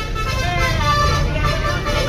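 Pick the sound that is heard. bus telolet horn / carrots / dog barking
bus telolet horn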